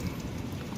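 Steady rain from a thunderstorm patters continuously, a soft, even wash of drops falling nearby with no other sounds.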